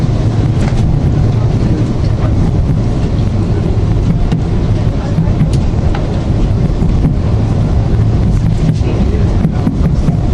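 Inside a TransPennine Express train heading to Newcastle, a loud continuous low rumble of the running carriage with rattles and brief knocks, no voices over it.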